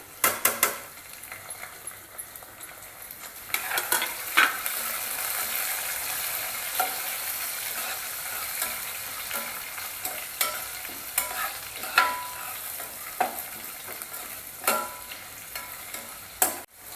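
Well-fried onion with tomato and chili sizzling in a pan for chana dal pulao, a constant hiss broken by sharp spatula clicks and scrapes against the metal, close and fairly quiet, with no speech.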